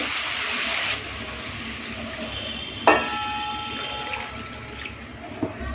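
Water poured into a pan of fried spice paste for Bengali bhetki fish kalia: a rushing, bubbling pour with sizzle that settles into a softer hiss, a sharp clatter near the middle and a small knock near the end.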